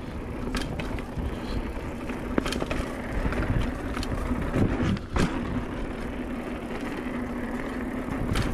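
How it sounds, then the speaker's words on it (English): Mountain bike tires roll loudly over hard-packed, dry dirt on a park trail, a continuous close rumble and crunch with occasional sharp clicks and knocks, and no talking. "my tires are very loud. Especially on this hard packed, really dry dirt."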